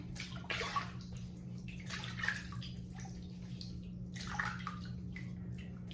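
Water runs from a tap and splashes as a face is wetted before a shave, a soft, steady trickle with intermittent splashing, close by and fairly quiet, with no voices.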